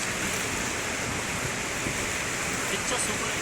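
Kuntala waterfall roaring as a dense, constant rush of water, loud and unbroken throughout.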